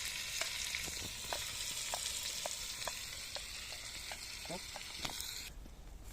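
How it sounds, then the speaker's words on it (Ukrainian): Onion frying in pork lard gives a steady, bright, hissing sizzle with light ticks and pops scattered throughout, close and quiet, cutting off near the end. "Тепер ми додаємо цибульку до нашого гарненького сальця"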